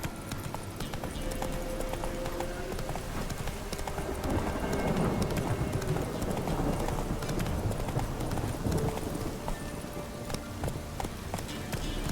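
Hooves of Roach, Geralt's horse in The Witcher 3, clip-clopping in a steady gallop rhythm, faint and continuous under a dense ambient game soundscape.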